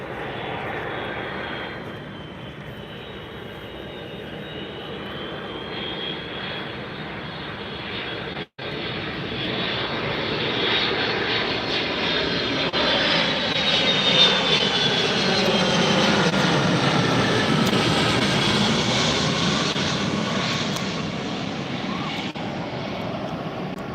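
A Boeing 757 airliner arriving at Tampa airport roars loudly and steadily for the whole stretch, its engine noise swelling and then slowly easing as it passes.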